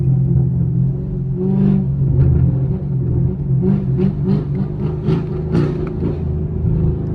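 A 500hp Camaro SS rumbles in first gear, a loud, close, deep burbling engine drone that rises and falls steadily for the whole stretch with no talking.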